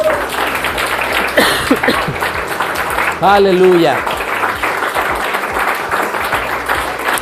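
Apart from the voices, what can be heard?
congregation applauding in church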